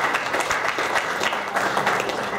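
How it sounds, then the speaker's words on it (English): Crowd applause at a boxing promotion introduction event, a steady, dense wash of clapping from the audience that holds at an even level for the whole stretch with no talk over it. "please give Peter a round of applause"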